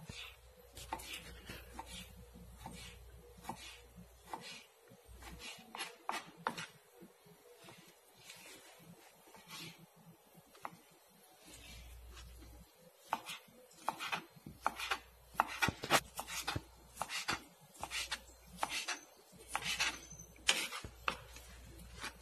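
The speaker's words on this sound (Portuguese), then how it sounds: "Esse bacon tá bem carnudo, mas dá pra gente tirar aqui uns pedacinhos de gordura." Knife cutting small pieces of fat off meaty bacon on a board, repeated close taps and chops in irregular bursts, quieter at first and denser later, with no talking.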